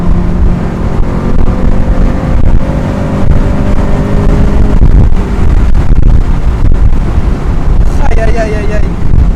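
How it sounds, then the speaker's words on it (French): Mazda MX5 NA convertible driving with the top down, steady road roar and exhaust drone filling the cabin, wind buffeting throughout, with a brief higher whine near the end as the gearbox shifts. "on entend la route, on entend l'échappement, on entend le bruit de la boîte quand on passe une vitesse"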